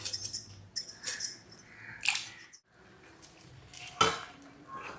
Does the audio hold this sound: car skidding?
no